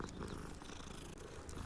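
A cat purring softly in the Hogwarts Legacy video game, a low continuous rumbling purr with gentle rhythmic pulses, quiet and close, no voices.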